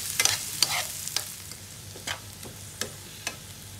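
Onion, green chili and ginger sauté in a pan, with a soft sizzle and sharp scraping stirs that come at irregular intervals, close and fairly quiet.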